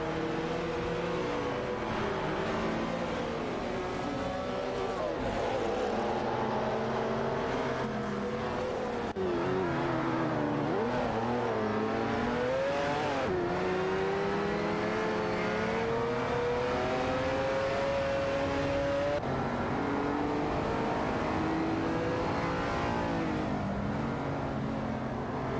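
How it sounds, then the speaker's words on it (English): Three race cars bunched tightly on a straight at high speed, engines droning loud and continuous with shifting, rising and falling pitch as they hold pace, no voices. "The three cars are tightly packed, maintaining high speed down the straight"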